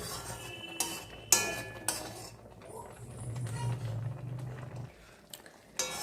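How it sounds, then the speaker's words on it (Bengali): Food frying in ghee in a pan, stirred now and then with a utensil: soft scraping and a few sharp metallic clinks over a low, steady sizzle, close and moderately quiet. "আমি মাঝে মাঝে এটাকে নাড়িয়ে দিচ্ছি এরম করে"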